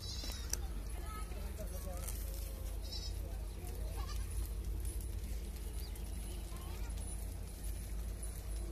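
Goats bleat intermittently at a rural farm beside a newly built wooden shelter, a few short calls rising over a low steady hum, with hoof clops and quiet background voices.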